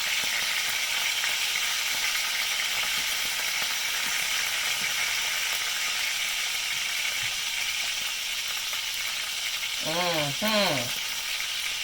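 A ribeye steak sizzles in a hot pan, a continuous loud frying hiss holding steady throughout, with a short burst of voice near the end.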